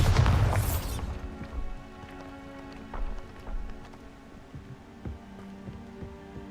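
A Bombarda spell blast in Hogwarts Legacy bursts out as one loud, sudden boom at the start. Scattered faint thuds and low clatter follow over a quiet background.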